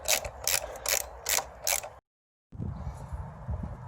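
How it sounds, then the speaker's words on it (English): Ratchet clicking on the front mounting bolt of a Ducati Monster as it is undone, a few sharp repeated bursts of ratcheting, then a brief silence and quieter low handling noise, close and with no talk. "Yeah, so the front mounting bolt comes out."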